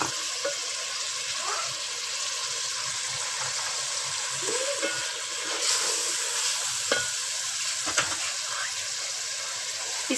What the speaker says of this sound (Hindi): इसको तकरीबन 5-6 मिनट हम भून लेंगे